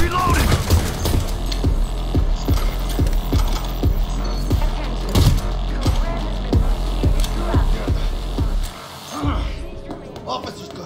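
Turret gunfire in Cyberpunk 2077, rapid loud bursts of automatic shots in a steady rhythm with mechanical clatter and a low hum underneath, fading out after about nine seconds.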